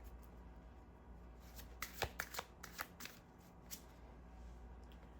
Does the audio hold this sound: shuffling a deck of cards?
yes